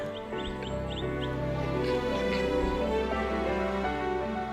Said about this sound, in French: les mâles paradent et chantent pour être choisis par les femelles